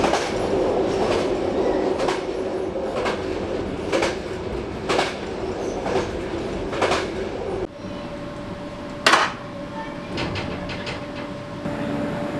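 Riding the Silva Nortica train from Vienna to Prague on a slower, bumpy line: a regular clickety-clack of wheels over rail joints beneath a steady rumble, with a sharper jolt near the end.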